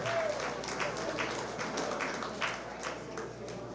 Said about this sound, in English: big round of applause for Walt Smith?